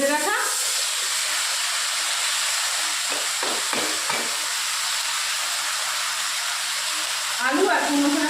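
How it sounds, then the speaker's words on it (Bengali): Potatoes and pumpkin greens hit hot oil in a pan with a steady, close sizzle and hiss that runs throughout, with a few stirring knocks and a voice speaking briefly near the start and end. "আলু আর কুমড়ো শাকটা এর মধ্যে দিয়ে দেবো।"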